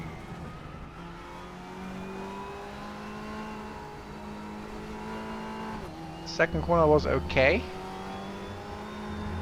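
Engine of a front-wheel drive race car in a racing video game drones steadily, rising and falling with throttle, while someone talks over it briefly near the end.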